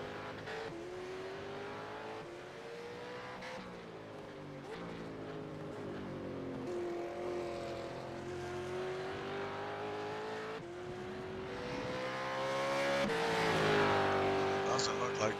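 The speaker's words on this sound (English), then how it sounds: "So we'll wait for probably a few more cars to cross the line." Several race cars in iRacing crossing the finish line on the Phillip Island Circuit during a Supercars esports session, engines droning steadily with rising and falling pitch under continuous commentary.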